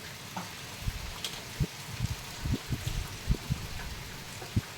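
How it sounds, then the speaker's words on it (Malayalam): Steady rushing wind and rain, with scattered drips and taps landing close by. "ഈ സൗണ്ടൊക്കെ അങ്ങനെ കേൾക്കുന്നില്ലേ, കാറ്റും മഴയും."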